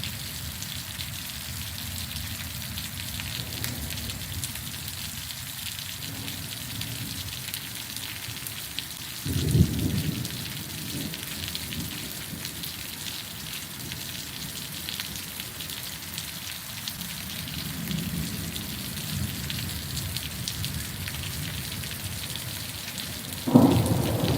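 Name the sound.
heavy rain and thunder from a storm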